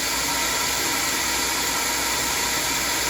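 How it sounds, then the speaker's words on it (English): Compressed air pushed through the exhaust manifold of a Chevy Cobalt with a burned valve makes a loud, steady, unbroken hiss that stays constant and close throughout. "I am pushing compressed air through the exhaust manifold right now"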